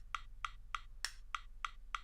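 Cubase metronome at double tempo, seven quick evenly spaced clicks with one brighter accented click among them, faint and alone over a low steady hum.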